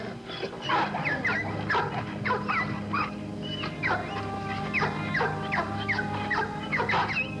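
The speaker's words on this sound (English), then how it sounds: "Why, they're dogs. Bull Terriers." Several Bull Terriers bark and yip in excited, overlapping bursts, fairly close, with a steady low rumble underneath and a bird-like squawk mixed in.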